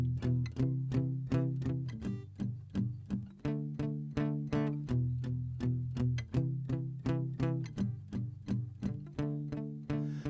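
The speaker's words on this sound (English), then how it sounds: "we're going to do muted eighth notes" Muted eighth-note guitar strumming with the heel of the strumming hand resting on the strings, giving a steady stream of short, damped chord strokes at an even, brisk pulse, close and moderately loud with no talking.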